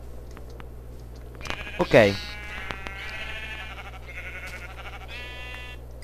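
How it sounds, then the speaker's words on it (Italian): A sheep in the Minecraft video game lets out a single clear, wavering bleat midway through, over a low steady hum, with a brief voice nearby. "Ammazziamo quest'altra pecora"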